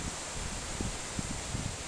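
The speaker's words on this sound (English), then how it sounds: "right now it is very windy outside, very windy. So the branches, the leaves, all the foliage is moving" Leaves, branches and foliage rustle and thrash outdoors in very strong wind, a continuous broad hiss with a few louder gusty swells, no voices.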